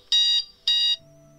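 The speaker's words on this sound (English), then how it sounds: "Timer." A timer alarm sounds two loud, shrill electronic beeps in even succession, each lasting about a quarter second, followed by a faint lingering tone; no talking.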